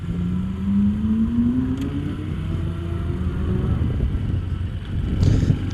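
Ferrari 458 sports car going past on the road, a rising engine tone swelling and fading under steady road rumble, heard from another vehicle nearby.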